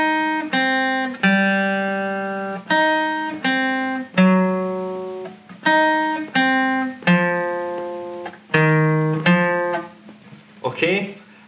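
A guitar melody plays slowly and deliberately, single plucked notes ringing out one after another in an even, unhurried rhythm, close and clear with no talking.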